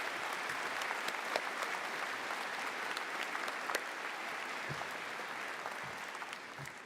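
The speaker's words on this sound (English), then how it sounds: "Graduates, would you please join me in a round of applause for all those wonderful MRU folks who helped you along the way" A graduation convocation crowd gives a round of applause, an even, continuous patter of many hands clapping at moderate distance and fairly faint level.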